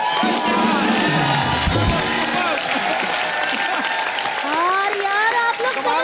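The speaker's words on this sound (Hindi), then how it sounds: "सो ताली मत बजाइए, ताली मत" A studio audience applauds at a comedy show, a loud steady wash of clapping with cheers and whoops, while voices talk and shout over it.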